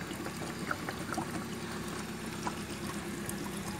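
Water from a 1.5-litre plastic bottle pours steadily into a hydroponic box made from recycled materials, a continuous splashing, trickling wash held close throughout.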